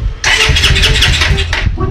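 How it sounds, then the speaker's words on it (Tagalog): Motorcycle engine cranking and catching with an odd, harsh noise, a loud close roar starting abruptly and holding with a brief dip near the end. "Papatingnan ko lang yung motor ko kasi pag ini-start ko, may iba ako naririnig."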